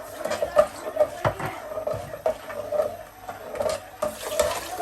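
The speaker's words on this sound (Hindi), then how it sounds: "अब इसमें जो रह गए मैं थोड़ा सा पानी डाल के इसको मिक्स करके डाल दूंगी।" Water is poured into a pot of yogurt curry for Kashmiri yakhni, giving uneven splashing and trickling with intermittent clinks and faint background noise.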